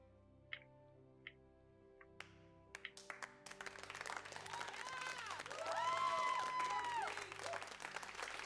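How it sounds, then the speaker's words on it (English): Crowd applause swells from scattered early claps into sustained, dense clapping that peaks mid-clip and carries on to the end, loud and fairly close, with no talk. "Why are you all clapping for him?"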